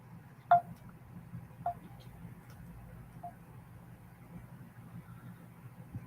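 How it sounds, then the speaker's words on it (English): A phone's notification sounds go off three times in a quiet room, short faint chimes spaced a second or so apart over a low steady hum. "I can hear when her notifications go off on her phone."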